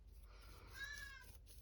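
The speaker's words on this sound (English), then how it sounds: "Meow, meow, meow, meow, meow." Cat meowing, a single drawn-out faint meow heard alone.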